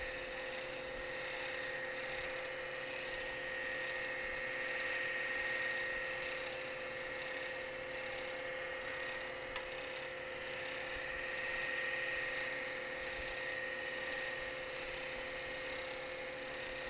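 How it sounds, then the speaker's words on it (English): A wood lathe hums steadily with a constant whine as a cutter turns an Alumilite mallet, shavings coming off in a continuous, even scraping under the motor drone, with no talk. "Getting some good shavings coming off. I got a new cutter, I think. And it is cutting beautifully."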